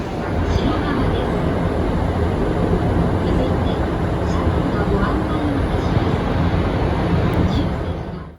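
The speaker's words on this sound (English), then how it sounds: "I'm back on the train, heading towards Lake Kawaguchi in the Mount Fuji area" A steady, loud rumble fills the inside of a moving Japanese train heading toward Lake Kawaguchi near Mount Fuji, with constant broadband noise and faint rattles throughout.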